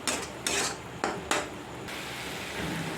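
Metal lid clattering onto a cooking pot of atta pasta, a few sharp clanks and scrapes in quick succession, close and fairly loud, followed by a low simmer.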